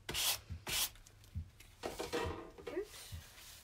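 A book is rubbed with 320 grit sandpaper during a restoration, producing short raspy scraping strokes in an uneven rhythm, close and moderately faint.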